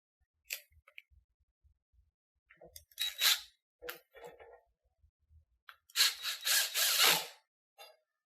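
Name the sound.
tightening bolt to attach foosball table handle to rod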